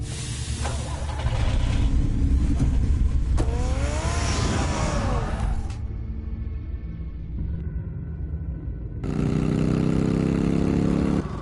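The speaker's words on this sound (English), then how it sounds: "Get the car ready, Alfred." A car engine runs loudly and continuously, revving with rising and falling pitch sweeps, then settling into a steadier drone before surging again, with no talking.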